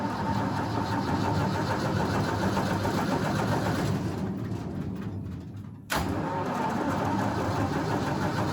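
A small engine runs with the choke on in a steady, close droning idle, briefly sputtering and dipping near the end before catching and settling back into its even running, with no talk.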